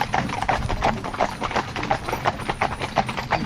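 Hooves of a five-in-hand horse team clip-clop steadily on a road, a regular walking rhythm of sharp knocks heard close and fairly loud over a low rumbling background.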